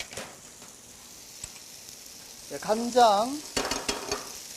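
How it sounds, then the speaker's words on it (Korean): Wild mountain greens stir-fry in a pan with added water, a soft steady sizzle with scraping stirs, rising in the second half with brief louder spatters and a short spoken word over it. "너무 억셀 경우에는 물을 부어서 같이 이렇게 볶아줍니다"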